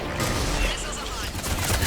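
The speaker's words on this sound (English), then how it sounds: "Missiles away" Missile salvo launching in the Mass Effect 3 video game, a dense sustained roar of rapid launches and rumbling blasts layered with game effects, continuous and loud for about two seconds.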